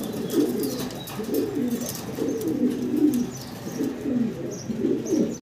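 Racing pigeons at a farm loft cooing steadily in repeated soft, throaty rolls, close and moderately loud, with faint chirps and background noise and no talk.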